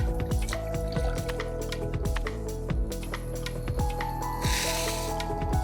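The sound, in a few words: milk being poured into a saucepan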